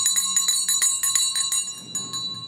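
A handheld bell with a handle, louder than a more ornate one, rings out in a rapid series of about eight bright strikes, each with a sustained metallic tone that lingers, close and clear with no voices.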